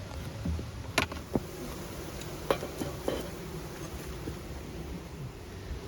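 Honey bees hum around a swarm hive that is crowded with bees, making a faint, steady outdoor drone broken by a few brief knocks and clicks nearby.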